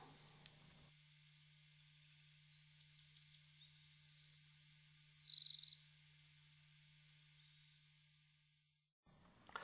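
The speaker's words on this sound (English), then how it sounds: "The orange-crowned warbler has a simple and cheerful song." An orange-crowned warbler's song trills for about two seconds, fairly faint and high-pitched, over a steady low hum with otherwise quiet background.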